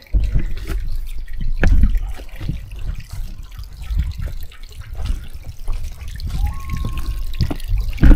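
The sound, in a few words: homemade pond waterfall running water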